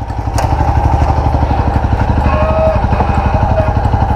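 A motorcycle engine revs hard and close during a wheelie, throbbing steadily in a rapid, even pulse throughout.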